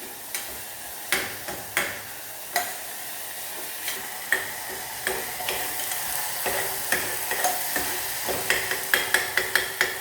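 Tomatoes frying and being mashed in a pan, a soft sizzle under repeated sharp scraping and tapping strokes of a spoon, picking up pace toward the end, with no talking.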